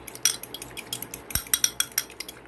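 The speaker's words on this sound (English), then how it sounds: "Whisk that egg up." An egg is whisked in a bowl for airfried mozzarella sticks and jalapeño poppers, giving quick, rhythmic clinks of utensil against dish, close and crisp, with no one talking.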